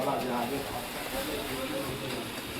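Steady steam hiss rises from rice cooking in a pot on a stove in a hotel room in Lachung, a constant broad rush with a voice talking over it.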